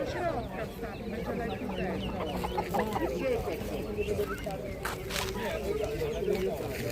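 Chickens cluck and chatter close by at an outdoor market, with a bird call or two, while people talk over the flock.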